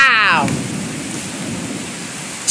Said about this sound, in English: Severe thunderstorm risk and torrential rain.